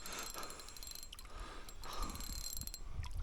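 A fishing reel winding in a small carp, close ratcheting whir of the spool turning steadily with a few soft clicks.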